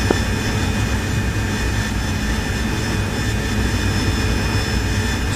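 Harrier jet engine in the DCS flight sim during supersonic level flight, a constant loud roaring whine with steady high tonal hiss and dense low rumble throughout.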